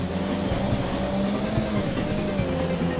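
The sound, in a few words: race car engine downshifting in a video game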